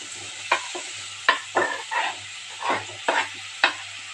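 Onion and bottle gourd sautéing in a pan, with a steady sizzle under repeated scraping stirs of a spatula, close and clear, no voices.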